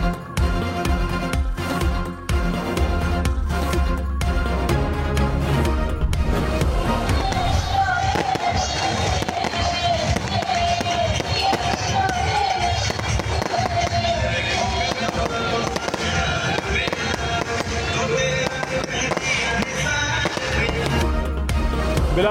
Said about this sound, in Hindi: शानदार आतिशबाजी का मुजाहिरा